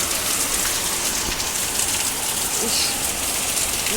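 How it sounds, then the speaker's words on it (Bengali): Heavy rain pours down steadily, a dense, loud hiss of drops hitting surfaces that never lets up. "এই দেখো জোরে জোরে বৃষ্টি পড়ছে"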